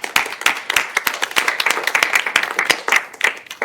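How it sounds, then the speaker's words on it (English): An audience at an end-of-year academic presentation event claps in a dense, steady burst of applause, close and lively throughout. "so a round of applause"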